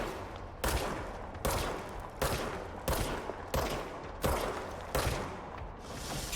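Rapid gunfire rings out in a haunted IKEA video game, coming in repeated bursts roughly every half second to second, each sharp crack followed by a short trailing blast, close and loud.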